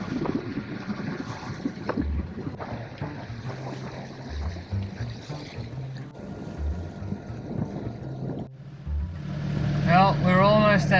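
A sailboat motors under engine power near a marina, its low engine thrum steady beneath wind noise, with voices speaking near the end.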